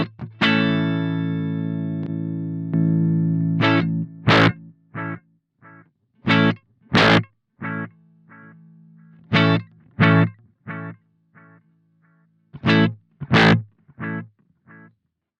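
Harley Benton Duality reverb and delay pedal overloading the signal into a Hughes & Kettner Black Spirit 200 amp, giving a loud, distorted guitar chord that rings out, then a string of choppy, stuttering bursts with sustained tones beneath.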